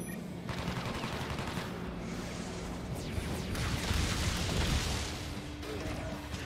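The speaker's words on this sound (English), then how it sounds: "airstrike!" Dense battle noise from the Crisis Core: Reunion video game, with an airstrike's rumbling explosions and rapid gunfire forming a loud, continuous barrage that swells in the middle, and no talk over it.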